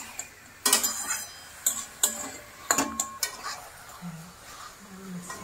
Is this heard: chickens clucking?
no